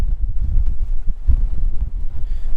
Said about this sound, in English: So yeah, it's windy as hell up here.